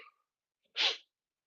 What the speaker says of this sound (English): all of a sudden I need to sneeze really bad